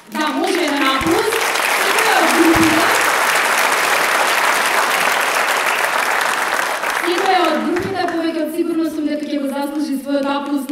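Audience applause at a folk dance ensemble's anniversary concert in Veles, a sustained loud burst of clapping that swells and then fades, with someone speaking over a microphone before and after it.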